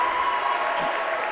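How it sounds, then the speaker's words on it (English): Home crowd at a high school basketball game gives a standing ovation, steady dense applause filling the whole stretch at a consistent level with no distinct voices. "welcomed by a standing ovation from the home crowd today"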